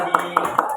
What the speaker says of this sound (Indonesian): Mari kita beri tepuk tangan untuk kita semua